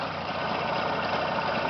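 A motor engine runs steadily at a constant idle, a continuous even rumble heard close and alone without any voices.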